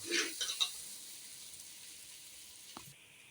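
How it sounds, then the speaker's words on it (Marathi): Tomatoes roasting in a hot pan give a soft, steady sizzle, loudest at the start with a few crackling bursts, then settling into a faint, even hiss. "आता हा टमाटा भाजायला घेतला हा चांगला भाजून घेणार आहे"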